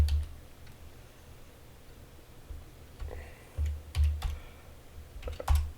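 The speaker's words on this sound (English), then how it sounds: "So let's type in CSV." Keys clack on a computer keyboard in quick, uneven bursts, sparse at first and then a denser flurry of close clicks near the end, with no talking.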